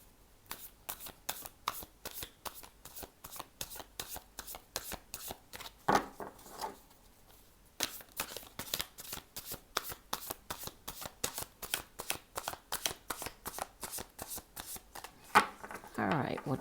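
Tarot cards being shuffled up close in quick, rhythmic riffles and flicks, repeated many times with a short pause partway through.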